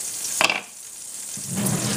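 Mushrooms sizzle and fry in a hot pan. A sharp clatter opens the sound, then a softer steady frying hiss follows, and a louder burst of sizzling builds toward the end.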